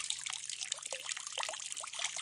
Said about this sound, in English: Then watching the water run.